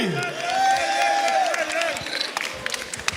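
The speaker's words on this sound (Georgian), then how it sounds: "ნაინ რაიმისთვის შევქმნათ ხმაური" A crowd at a rap battle event cheers and applauds, with a whistle-like tone rising above the steady, fairly loud roar of voices and clapping.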